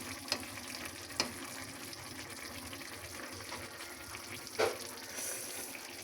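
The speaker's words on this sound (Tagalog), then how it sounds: "Pinapalambot ko na lang yung potato at saka carrots." Menudo with potato and carrots bubbles and sizzles steadily in a pan, with a few sharp utensil scrapes and knocks as it is stirred, no voices.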